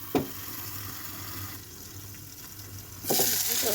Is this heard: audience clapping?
no